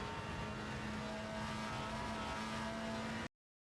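Volvo WTCR touring race car in the RaceRoom sim at full throttle uphill on Slovakia Ring, a steady loud engine drone with a sustained tonal whine, alone and cutting off abruptly.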